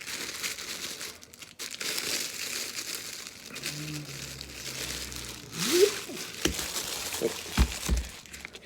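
Plastic packaging on a mystery box item crinkles and crackles as it is unwrapped, a close, continuous rustle with a louder tearing crunch near the end and a few sharp handling knocks.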